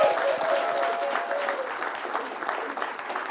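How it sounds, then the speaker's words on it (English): An audience at a film festival panel talk applauds the filmmakers, a dense, steady round of clapping lasting several seconds at moderate loudness, with a brief faint tone near the start. "if we can just give another round of applause to the wonderful filmmakers"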